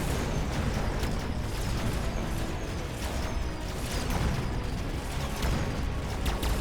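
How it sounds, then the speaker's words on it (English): Orbital bombardment explosions in the strategy game Mechabellum form a dense, continuous roar of overlapping booms and crackling blasts, loud and sustained without a break. "orbital bombardment can hit the flyers"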